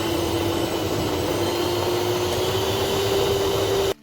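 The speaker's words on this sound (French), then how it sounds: "je mets les 200 g de mascarpone dans le batteur électrique et je commence à le battre" An electric hand mixer whirs steadily while beating 200 g of mascarpone, a constant motor drone with a faint rising pitch, then cuts off abruptly at the end.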